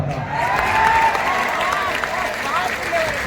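Audience at a Hindi poetry recital applauding and cheering, a steady wash of clapping with raised voices and shouts mixed in, continuing at an even level throughout.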